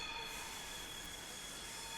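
A train in Train Simulator 2020 on the North Jersey Coast Line rolls over a switch, a continuous close rumble with high, steady wheel squeal and faint rail clatter.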